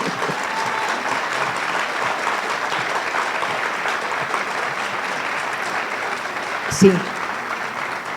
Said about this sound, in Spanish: el aplauso lo recibo con gusto, pero no es para mí.